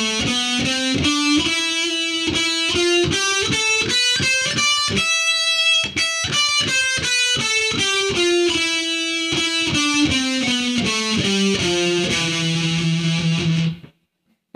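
A distorted electric guitar with effects runs a scale two octaves up and back down in steady, evenly picked notes, ending on a held low note that stops abruptly; loud, close and alone.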